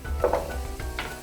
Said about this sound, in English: Okay, so we're just going to stir in the carrots, in with the sauce.